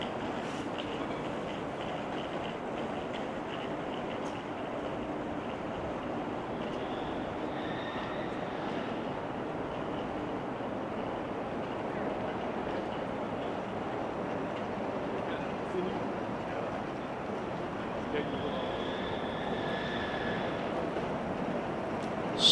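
A jet airplane taking off at Amsterdam Schiphol Airport on a showery day, heard as a steady, broad, moderately loud roar that holds level throughout, with faint high whining tones coming and going.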